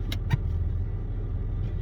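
A 1998 Honda Accord engine runs in gear against the parking brake with the brake pedal held, giving a steady, close, low rumble over a brief stretch.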